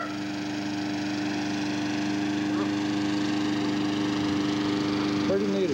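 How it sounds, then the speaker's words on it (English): A lawnmower engine drones steadily and close by with a constant tonal hum, running throughout without pause as it runs out of gas; a brief higher mechanical whine rises near the end. "I'm letting the lawnmower run out of gas for the winter"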